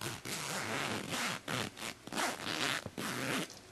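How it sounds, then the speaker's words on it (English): A clothing-style zipper from a jewelry-craft pack is unzipped all the way in a run of close, rasping strokes separated by short pauses, with no talk. "When you take your zipper out of the pack, you're going to unzip it all the way."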